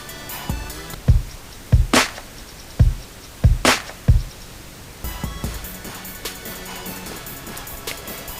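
Basic FL Studio drum pattern running three beats of eighth notes, then rolling into sixteenth notes on the fourth beat; punchy kicks and bright snare or clap hits repeat over about eight seconds, with a busier stretch near the end.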